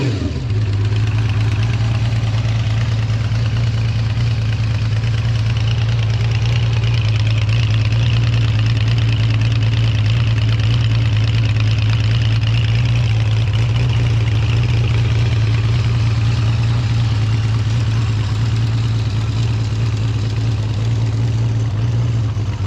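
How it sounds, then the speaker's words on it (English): A 1976 Benelli Sei six-cylinder motorcycle idles steadily after being started, a smooth, continuous mid-pitched engine drone with a strong low hum and faint mechanical clatter, close and loud with no talking. "We'll start it up so you can get an idea what it sounds like."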